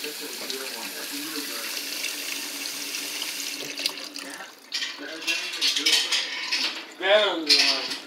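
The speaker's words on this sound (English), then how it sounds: "Water sound effects." Water runs steadily from a tap, with brief clinks of dishes and a voice speaking near the end.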